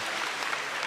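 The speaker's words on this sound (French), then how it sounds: "Applaudissez pour lui." Audience applause fills the room at a live stage comedy show, a steady, dense patter of clapping hands heard on its own for a brief moment without talk.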